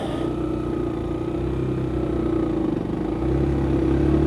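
A Triumph motorcycle engine runs at a steady low throb close by, then rises slightly in level near the end as the rider sets off in second gear, with no talk over it.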